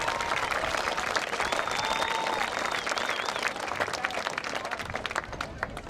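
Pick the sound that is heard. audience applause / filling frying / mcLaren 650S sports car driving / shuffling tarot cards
audience applause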